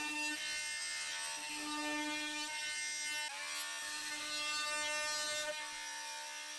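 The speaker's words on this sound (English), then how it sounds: "I finished off those cuts to the central dividers with my multi-tool and a chisel to square up any round" Oscillating multi-tool cutting into plywood central dividers of a mid-century modern vinyl storage unit, a steady high buzzing whine that runs continuously, dipping briefly in pitch as the blade bites, close and fairly loud.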